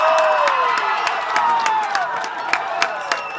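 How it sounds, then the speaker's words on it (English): Fans at a varsity high school baseball game, Salem Hills at Maple Mountain, roar after a game-tying home run, with steady loud cheering and scattered claps sustained throughout. "And this crowd is going crazy."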